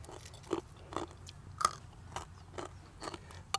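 Crispy fried pork tail is bitten and chewed up close, giving a series of sharp crunchy bites roughly every half second over a low background hum, with no talking.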